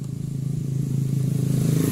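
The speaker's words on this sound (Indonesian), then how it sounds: "Kita coba hidupkan motornya." A Yamaha motorcycle engine, a Fino, Mio or Jupiter Z type, starts and settles into a steady low idle that grows slightly louder, close by and alone with no talk.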